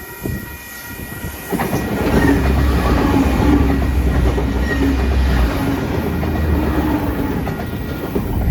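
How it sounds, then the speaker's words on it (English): An Explorer passenger train rolls past a short station platform at Wondabyne, a loud, steady rumble of wheels with rhythmic clickety-clack over the rails, heard close and alone without voices. "the train's coming"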